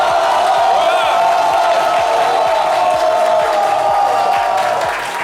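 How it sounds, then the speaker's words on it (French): A live studio audience at a French variety show shouts and cheers in a loud, sustained roar of mixed voices that fades slightly at the very end. "Je veux entendre des cris, s'il vous plaît."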